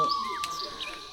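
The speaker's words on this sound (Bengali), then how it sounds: "এই যে ঝিঝি পোকার ডাক" A faint, steady insect drone of crickets or cicadas hums in the background with a few soft bird chirps over it, on a morning in the hill village of Mairungaon, Kalimpong, North Bengal.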